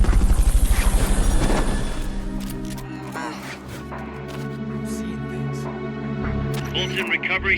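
A helicopter in the video game Metal Gear Solid Peace Walker roars loudly in a broad burst at the start, then drops back under tonal game music and effects.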